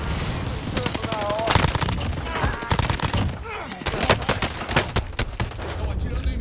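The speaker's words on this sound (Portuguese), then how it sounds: "Estão atirando em mim!" Rapid video-game gunfire in Warzone Rebirth Island, dense volleys of close, sharp shots in quick bursts, with a player's voice briefly talking over the shooting.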